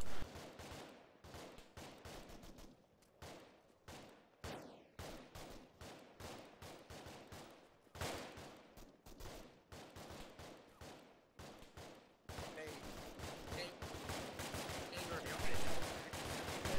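Heavy gunfire in a military squad battle in Arma 3, with rapid volleys of rifle and machine-gun shots cracking in bursts near and far, growing into a dense, continuous fusillade toward the end.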